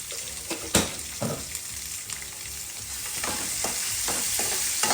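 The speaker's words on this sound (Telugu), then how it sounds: "బాగా ఫ్రై చేసుకోవాలి" Onions with salt frying in a pan for upma, a bright steady sizzle broken by several sharp scrapes and knocks of a spoon stirring against the pan, close and moderately loud with no talking.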